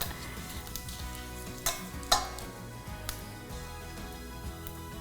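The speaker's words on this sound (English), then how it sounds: "Your cumin, toast, give it a nice mix." Cumin seeds toasting in a hot pan for a korma, sizzling steadily as they are stirred, with a few sharp scraping clinks of the spoon against the pan; no one speaks.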